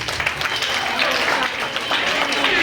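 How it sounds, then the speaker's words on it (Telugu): A crowd claps at a school Sankranti festival prize ceremony, dense continuous applause lasting the whole moment at close range. "క్లాప్స్ కొట్టాలి"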